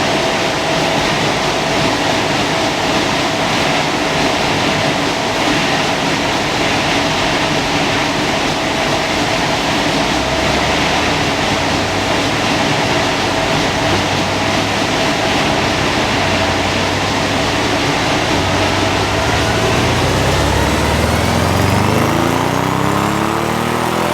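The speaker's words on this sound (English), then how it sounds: "let you hear this thing at full chat on the dyno." An Audi RS6 with an APR stage 1 tune making a full-power run on a dyno, a loud sustained engine roar that climbs in pitch toward the end, with no talking.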